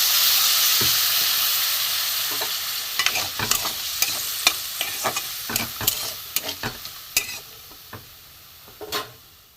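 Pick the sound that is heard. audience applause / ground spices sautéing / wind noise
ground spices sautéing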